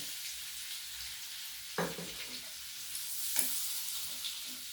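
Bay leaves, a dried chili, cumin, cardamom, cinnamon and cloves fry in oil as the base for masala chicken. The sizzle is soft and even, broken by a few brief scrapes of stirring, and no voice is heard.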